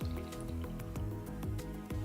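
Water sample drawn into a 60 ml syringe for a Legionella test, a faint sequence of soft liquid squelches and drips repeating roughly every half second, close and alone.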